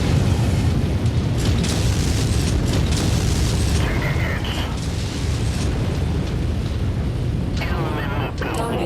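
Dense, continuous barrage of missile explosions and booms from MechWarrior combat, loud and layered throughout with mechanical rumble underneath and scattered pops.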